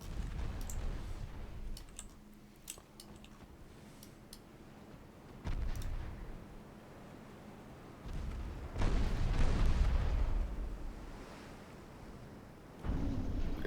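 Torpedoes strike and explode against a ship in a naval strategy video game: several dull booming blasts with a sustained rumbling burst near the end, between quieter stretches of sharp clicks.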